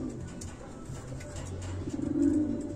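Racing pigeons cooing in a loft, a soft low murmur of several birds that swells toward the end, fairly close and steady with no talking.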